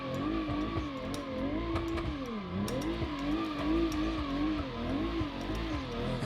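A Toyota Chaser-based mod car drives in the BeamNG driving game, its engine revving steadily with rising and falling pitch and some tire squeal, close and continuous throughout with no talking.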